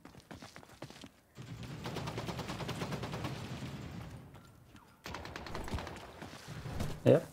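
Bursts of gunfire in the video game The Cycle Frontier, rapid repeated shots rolling through most of the clip with a brief pause, moderately loud and somewhat distant, with a voice speaking briefly over it.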